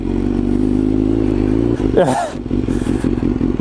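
A BMW motorcycle rides off-road with a steady, loud engine drone close to the listener, interrupted by a brief scraping clatter partway through, then the engine continues.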